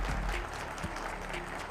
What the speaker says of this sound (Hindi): एक बार तालियों के साथ